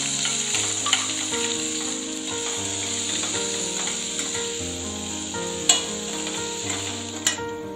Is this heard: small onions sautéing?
yes